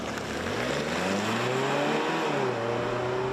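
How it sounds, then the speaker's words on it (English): A 2024 Mazda CX-90 PHEV's gas engine starts at full throttle from EV mode, a loud, close, rising engine drone that climbs steadily in pitch as the vehicle accelerates, with no voices. "even if you're in EV mode and you floor the throttle, the gas engine will kick on"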